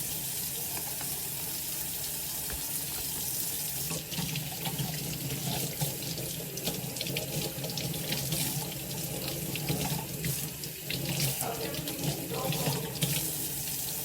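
Tap water runs steadily into a kitchen sink while raw chicken is rinsed under it, the stream hissing and splashing continuously at a moderate distance, its texture shifting as the meat is handled.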